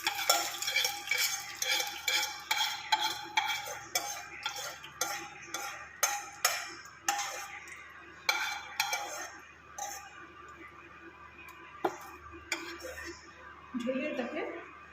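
A spoon scrapes and taps rhythmically in a pot while a tempering is stirred into Pokhal Bhaat, Odisha's fermented rice dish, with repeated close clinks that fade toward the end; a person talks over it.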